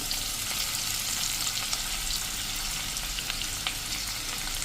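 Spice masala being stirred into ivy gourd curry frying in a pan, a continuous hissing sizzle with occasional soft scraping clicks, close and steady, with no speech.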